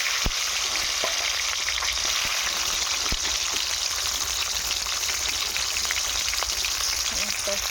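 Egg korma frying in a pan gives a steady, dense sizzle that runs the whole time, with a few soft knocks and clinks of a utensil now and then.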